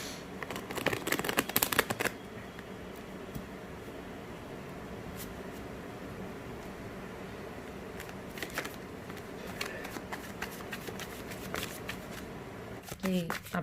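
A deck of tarot cards is shuffled in short riffling bursts, one longer flurry early on and briefer ones later, faint and close against a quiet room hum, with a soft voice at times.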